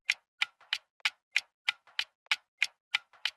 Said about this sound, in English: So if you have some headphones on, this is what the clock sounds like.